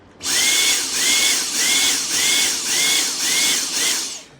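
A faulty Dyson cordless vacuum motor whines up, then cuts out and surges again in a steady pulsing cycle, about seven times, close and loud.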